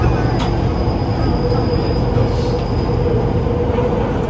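Amsterdam metro train stands at a station, a loud steady rumble with a faint high whine running through it, and no pauses.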